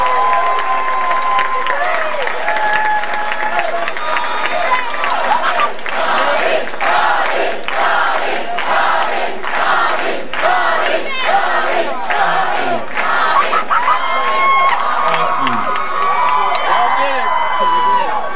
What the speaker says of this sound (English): Let's give them a round of applause for offering themselves for Louisiana.